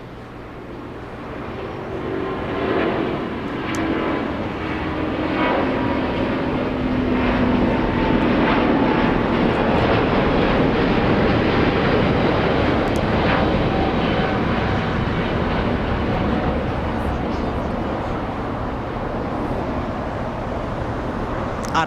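An airliner rotates and climbs away on takeoff at Los Angeles International Airport, a broad, steady jet engine roar that builds and holds loud throughout, with no talking over it.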